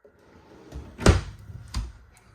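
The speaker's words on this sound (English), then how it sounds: "So you got this drawer right here." An RV kitchen drawer in a 2023 Cedar Creek 311RL fifth wheel slides and bumps shut. A soft first knock is followed by a sharper, louder thud and then a third closing bump, all close by and quiet.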